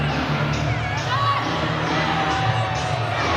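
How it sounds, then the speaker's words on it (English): A dense, roaring crowd cheers and shouts steadily throughout at an NBL basketball game between Riptide and Island Storm, loud and sustained with whoops rising out of the noise. "Crowd going crazy with tons of time left in this game, Briar."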